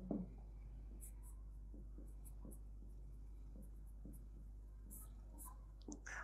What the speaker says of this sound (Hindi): फार्मूला भी लिख लेता हूं।